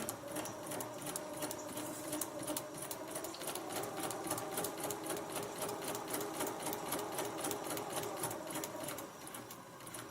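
A sewing machine stitches steadily along the line of a paper-pieced log cabin heart quilt block, its rapid, even needle rhythm running close and unbroken for nearly the whole stretch.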